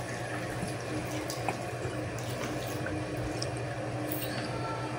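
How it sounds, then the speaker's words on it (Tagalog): Vinegar being poured into fish paksiw with garlic and onion while cooking, a steady continuous liquid pour with faint splashing and drips, close and even throughout. "At lagyan na rin natin ng suka."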